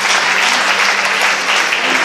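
A church congregation claps for Jesus during a healing testimony, producing brief, loud, dense applause from many people that stays at a constant level throughout.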